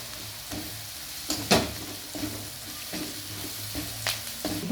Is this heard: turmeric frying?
yes